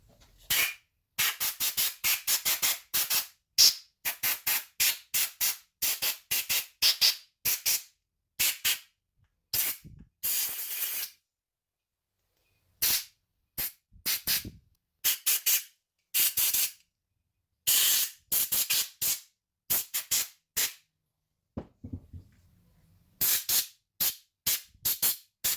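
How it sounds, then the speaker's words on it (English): An air gun blasting compressed air over parts in a shop, removing cleaner from a Coleman Powermate 7000 generator with an 18 HP twin engine, in many sharp hissing bursts of varying length, loud and close, with no talk. "And noise alert, air gun."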